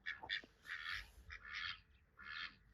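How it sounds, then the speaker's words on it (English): A pair of ducks crossing a roadside on a cycling route quack in short nasal bursts, several calls in quick groups separated by brief pauses, fairly close but not loud, with faint low background noise. "Oh, beautiful ducks."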